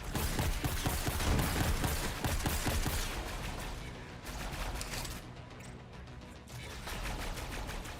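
Rapid gunfire in Borderlands 3, a dense, relentless stream of automatic shots with brief pauses and bursts, loud and close over continuous game background, without speech.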